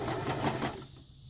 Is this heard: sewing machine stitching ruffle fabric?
yes